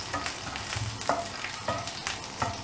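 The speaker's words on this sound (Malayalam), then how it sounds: "ഇതിലേക്ക് നമുക്ക് വെളുത്തുള്ളി 1 ടീസ്പൂൺ വെളുത്തുള്ളി കട്ട് ചെയ്തത് ഇടാം. ഒരു 10 സെക്കൻഡ് ഒന്ന് മിക്സ് ചെയ്യാം." Chopped garlic sizzles steadily in hot oil while a utensil stirs it, with soft scrapes and light clinks against the pan during a veg burger filling preparation, close and continuous.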